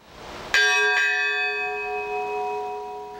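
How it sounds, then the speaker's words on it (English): A large historic tower bell on a college campus, hung in its tower since 1890, gives one loud strike that rings out and slowly decays into a long, sustained hum. "the Wyalusing bell is still strong enough to be heard across the Greenville campus"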